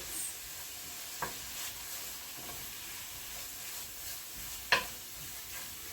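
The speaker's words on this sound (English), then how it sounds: "I want to cook the greens in this so it gets the flavor from the onions and the chorizo into the greens" Greens cooking in a pan with onions and chorizo give a soft, steady sizzle and hiss close by, with a few brief stirring clinks along the way and no talking.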